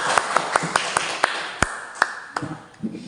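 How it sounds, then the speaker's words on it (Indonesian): A classroom of students claps for group 3 after their presentation, a sparse and uneven scattering of individual hand claps rather than a full ovation, loosening into a few stray claps near the end. "tepuk tangan untuk kelompok 3"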